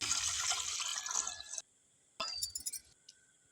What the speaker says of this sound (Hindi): तो थोड़ा कम लग रहा था तो थोड़ा और डाल दिया है पानी हमने।